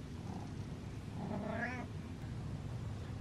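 One drawn-out cat meow, wavering and moderately faint, rising from a steady low background hum.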